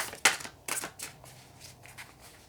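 A chunky, slippery deck of cards is shuffled in a quiet room, giving a few quick riffling bursts followed by softer rustling, close and fairly faint.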